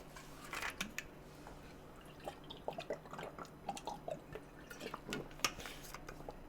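A game streamer takes a quick drink of water close to the microphone: faint sips, swallows and small wet mouth sounds come in irregular bursts over a quiet room hum, with no talking.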